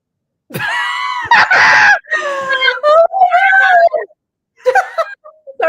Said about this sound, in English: Sorry, I just screamed into the microphone.